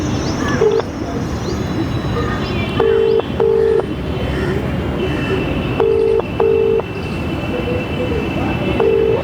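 Phone call on speakerphone ringing out, a repeating pattern of paired electronic ring tones over a loud, steady rumbling background, with a voice heard faintly.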